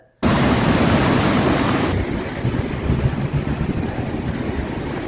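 Loud, roaring northeasterly storm wind buffets the microphone over the wash of waves on the Sea of Marmara, steady and close throughout with no voices.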